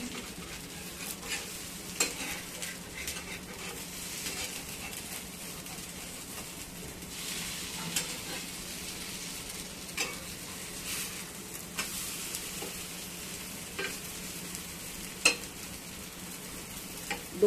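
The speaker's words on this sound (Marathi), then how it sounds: "आता आपला डोसा शिजत आलेला आहे। आता आपण तो पलटी करूया।" A moong dal dosa fries on a hot pan with a steady soft sizzle, broken by occasional scrapes and light taps of a utensil, close by with no talking.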